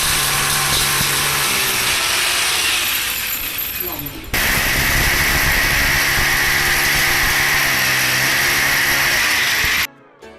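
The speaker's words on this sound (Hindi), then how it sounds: "तो इसको हम ड्रिल मशीन से होल करते हैं" Electric drill machine boring holes into a wall to fix a gypsum ceiling frame, a loud continuous whine that shifts pitch midway and cuts off abruptly near the end, with no talk.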